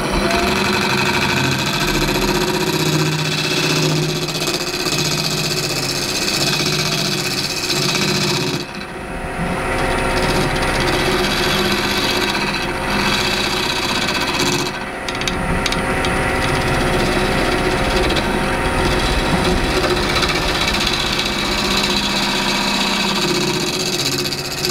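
Wood lathe turning the outside of a bowl as a bowl gouge cuts, a loud, continuous whir with a rough scraping texture and brief dips in the cutting noise, close by, no talking.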